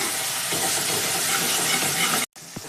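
Masala spices roasting in a pan for a pumpkin (chappan kaddu) curry give off a steady, loud broadband sizzle and hiss for over two seconds, then a brief cut to quiet with a faint clink.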